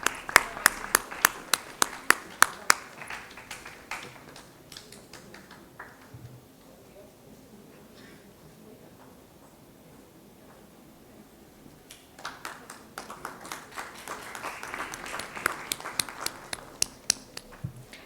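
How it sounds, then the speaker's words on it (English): A conference audience claps for panelists, sparse individual claps in a hall fading out, then swelling again into a second round of applause, with faint talk in between. "Please let your hands keep clapping for them."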